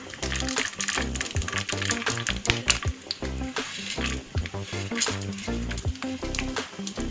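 Chana dal frying in hot oil with peanuts already in the pan, a loud steady sizzle with rhythmic stirring and scraping throughout.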